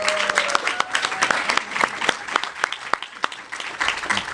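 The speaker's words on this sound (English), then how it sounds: "Let's give them another round of applause" A round of applause for Heather and her team at a community program launch in East County, Montgomery County, with scattered distinct claps from a modest audience, moderately near and tapering off.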